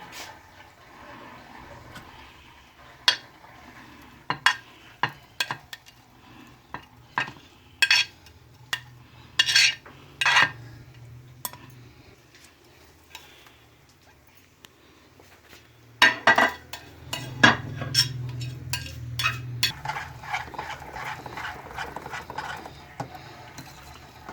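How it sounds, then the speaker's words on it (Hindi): Ingredients for aloo paratha being mixed with spinach in a bowl, giving scattered clinks and scraping knocks of a utensil against the dish, irregular and close over a quiet background. "फिर इसमें अब हम चीज़ें ये मिक्स करेंगे।"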